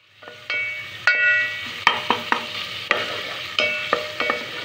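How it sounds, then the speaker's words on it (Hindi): Tomatoes lightly frying in a pan under a soft sizzle, broken by a series of sharp metallic clinks as a spoon stirs and taps against the pan at an uneven rhythm. "मैंने इसको लाइटली फ्राई करना शुरू किया है"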